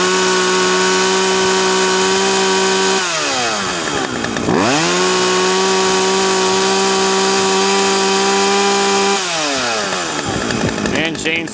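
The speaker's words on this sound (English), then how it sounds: "And chainsaw runs great." A Sears chainsaw runs loud and close, holding a steady high idle whine, briefly revving and dropping twice before settling back.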